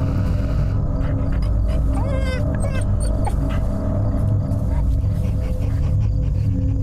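Dog whimpering in the Fears to Fathom: Carson House video game, a couple of short high whines and yips rising over a constant low rumble of background noise.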